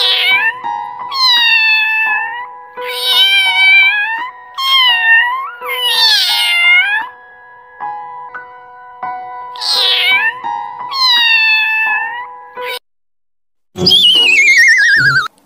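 A cat meows repeatedly, several drawn-out, loud, close meows with short pauses, ending in a higher, strained yowl.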